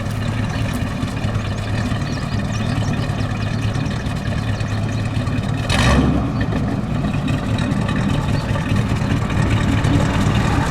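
A small-displacement engine in a 1936 Cord 810 Phaeton runs loudly and steadily close by, with one brief rise in revs partway through and no talking.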